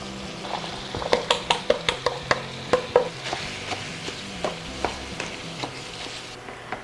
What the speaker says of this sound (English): I'm going to go ahead now and add my onion to the ground beef while it's browning